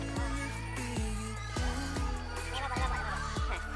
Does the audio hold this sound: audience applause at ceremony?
no